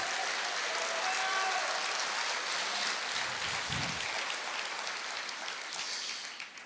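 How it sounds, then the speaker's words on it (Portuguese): A congregation applauds during a church service: a thick, sustained roar of many hands clapping that stays loud throughout and eases off slightly at the very end. "Você pode aplaudir o Senhor?"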